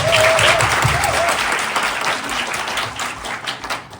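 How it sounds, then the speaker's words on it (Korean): Audience applause at a student research presentation event, a dense wash of many hands clapping fairly close and loud, tapering slightly toward the end with no talking over it. "여러분 박수 주세요"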